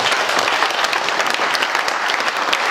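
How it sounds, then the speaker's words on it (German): Steady, dense audience applause at an AfD political rally, loud and continuous clapping from a large crowd with no voices over it. "Applaus"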